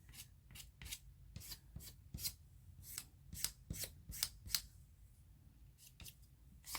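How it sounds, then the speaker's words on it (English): A tool scrapes excess paint and spreads it across an art journal page. Repeated short rasping strokes sound close and fairly soft in an uneven rhythm, with no speech. "I'm scraping the excess and just continuing"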